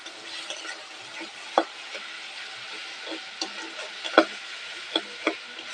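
Spice paste with tomato paste is stirred and fried in a pan, with no water added, for a raw jackfruit curry. A steady soft sizzle runs under sharp spatula scrapes and taps that come every second or so, close up, and no one talks.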